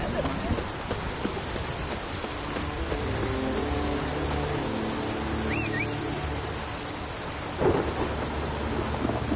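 Steady rain and rolling thunder in The Witcher 3: Wild Hunt video game, a continuous wash of rainfall with low rumbles throughout and a louder thunder crack near the end.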